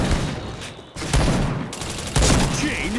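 Dense automatic gunfire fills a shooting video game match, rapid overlapping bursts with a brief lull before resuming louder, while game voice announcements sound over the shots.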